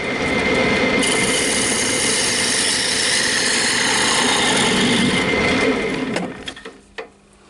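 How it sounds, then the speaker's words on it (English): A lathe spins a maple box while a parting tool cuts it, giving a loud, steady, close whirring and grinding roar for about six seconds. It then cuts off and winds down with a few brief clunks. "The old parting tool will do it."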